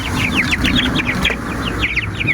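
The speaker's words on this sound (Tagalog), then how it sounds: "Ito na po yung mga sisiw, malalaki na" Hungry, well-grown chicken chicks chirp in quick, repeated high peeps close by, a busy run of calls with a short pause before they start again.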